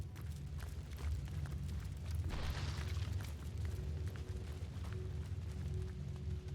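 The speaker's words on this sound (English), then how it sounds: "Boy, this sure did make a big explosion, didn't it?" A big in-game explosion from Divinity: Original Sin, a broad rumbling boom with a bright burst around the middle, over a steady low game soundscape.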